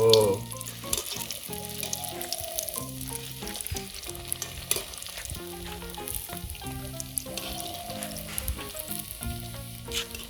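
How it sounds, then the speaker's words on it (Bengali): Egg balls fry in hot oil with a constant crackling sizzle up close, broken by small popping spatters, under faint tonal background sounds. "এরমভাবে ভেজে নেবো আমরা"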